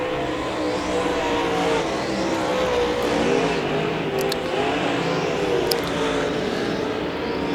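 Dirt track race cars at Devil's Bowl Speedway Winter Nationals, a steady, continuous roar of several engines racing around the oval throughout, loud and unbroken with no talk over it.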